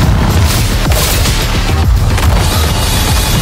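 Explosions and blasts in the action game Wuthering Waves during a boss fight against the Mighty Lightcrusher, heard as a dense, loud run of booming bursts and crackling impacts with no speech.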